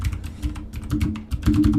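Rapid clattering keystrokes on a computer keyboard, close and fairly loud, a dense uneven burst of clicks with no talking.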